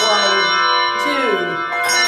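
Handbells in a bell class ring out sustained, overlapping tones that die slowly, with a fresh strike near the middle and another toward the end, loud and near.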